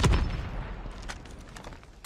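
SKS semi-automatic rifle fire in Call of Duty Mobile: a loud shot at the start, a quieter mid-section with faint distant pops, then another sharp report near the end, heavy low rumble throughout.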